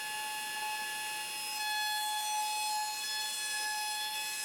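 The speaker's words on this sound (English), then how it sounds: "Right now I'm just chamfering the edges of all of the pieces." A power tool runs steadily while chamfering the edges of wooden jewelry box case pieces, giving a continuous high-pitched whine with strong tonal overtones and an even level, close and alone with no talking.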